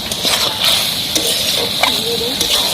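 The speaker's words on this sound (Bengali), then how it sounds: "এটা ভালোভাবে নেড়ে নিই মশলাটা একটু ভাজা ভাজা হোক" Masala with ginger and garlic frying in a pan for dhaba-style karai chicken, a steady sizzle with intermittent scraping stirs of the spatula, close and fairly loud.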